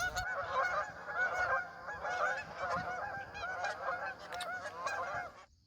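Canada geese honk noisily on a foggy morning on the water at Lower Buckhorn, a dense flock chorus of repeated overlapping honks that continues for several seconds and then stops abruptly.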